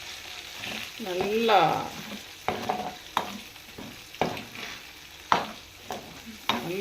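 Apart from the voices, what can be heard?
prawns frying in oil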